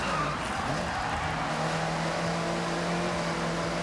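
Racing car in a video game sliding through a corner just before a long straight, a steady loud engine drone with tonal whine and tire noise running throughout.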